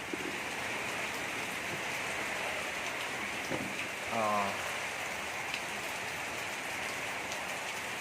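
Heavy rain pours onto a house terrace in a dense, steady hiss that continues unbroken, with a short, faint murmur of voices partway through.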